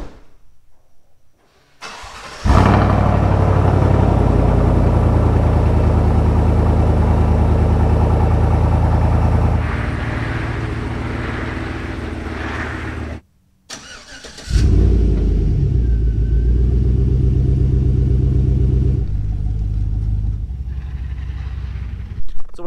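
A 2007 Chevrolet Silverado engine cranks and fires loudly, then settles into a deep, steady idle; after a short gap it starts again and idles on, close and strong.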